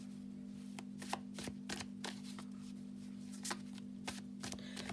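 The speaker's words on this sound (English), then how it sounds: "let me just pop down one of these lovely Arboridium" Arboridium oracle cards are handled and laid down on a surface: scattered soft flicks and light taps, a few sharper card snaps, all quiet and close over a steady low electrical hum.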